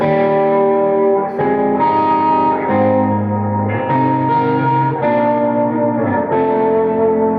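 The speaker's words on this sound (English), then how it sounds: "it's normally a crunch, and then reverb and delay, and then play these chords" Crunch-distorted electric guitar strums a slow series of sustained chords, each ringing out with lush reverb and echoing delay tails, at a metal guitar masterclass.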